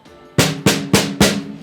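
Four sharp snare drum hits with stock drumheads in quick, even succession, bright and crisp with a short ringing tail after each stroke, close and loud.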